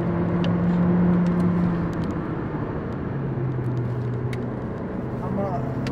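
A car on a test drive brakes while its steering vibrates, suspected from worn brake discs and pads. A steady engine and road hum fills the cabin, with a low droning tone that shifts as the car slows. People talk over it.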